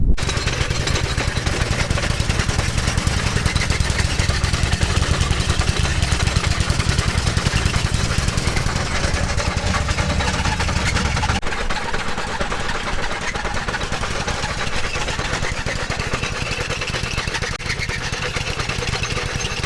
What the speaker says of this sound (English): We're gonna feed this material into the 3x4 jaw crusher, chomp it up to smaller size